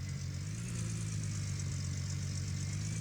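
A vehicle engine in the video game Gold Rush runs at a steady idle, a constant low rumble with a hissing upper layer, holding evenly throughout with no speech.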